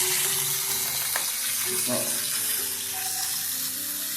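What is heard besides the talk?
water leaking from a galvanized iron pipe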